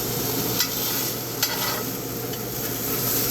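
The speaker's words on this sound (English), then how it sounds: "I'm going to flip this steak" Marinated steak sizzles steadily in a hot pan, a constant loud frying hiss with two brief clatters as the meat is flipped; no one speaks.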